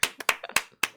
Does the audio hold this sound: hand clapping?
yes